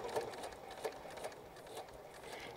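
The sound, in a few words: sewing machine doing a reverse stitch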